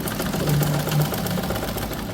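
A sewing machine stitching along the neckline of a blouse, a steady continuous mechanical whirr with a low rhythmic needle thump, close and fairly loud, no voices.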